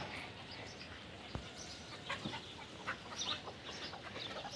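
Native village chickens squabble and cluck in an open natural setting, agitated clucks and short squawks scattered over a steady outdoor background, with one sharp thump midway.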